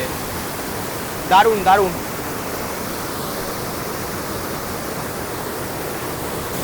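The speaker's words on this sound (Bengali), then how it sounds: "প্রচুর পরিমাণে কিন্তু এই মুহূর্তে জল রয়েছে ওয়াটারফলসে" A monsoon-swollen waterfall in Purulia roars as a steady, broadband rush that fills the whole stretch, loud and unbroken, with a brief excited voice speaking over it near the start.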